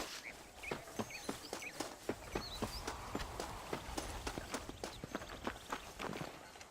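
Horse hooves clip-clop at a steady riding gait in the Red Dead Redemption video game, a rhythmic run of close, distinct strikes over a low background rumble with faint birdsong, no talking.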